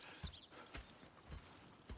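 Horse hooves clip-clopping at an unhurried walk in the Red Dead Redemption 2 video game, soft, evenly spaced thuds, faint and alone, with no talk over them.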